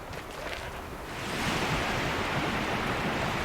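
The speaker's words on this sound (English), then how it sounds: "That must be where the water's coming from." Rushing water in the Horizon game world with Aloy, a broad steady roar that swells louder after the first second and holds there.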